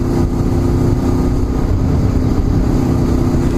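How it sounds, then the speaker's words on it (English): An electric bike whirring past makes a steady whirring hum with a rumbling, noisy undertone, holding at an even, fairly loud level throughout, with no clear engine note. "That sounds like an electric bike."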